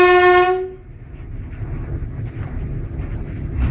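An ED9M electric multiple-unit train gives a short loud horn blast, then rumbles and hums steadily as it pulls away, heard from inside the cab with a continuous low rolling noise.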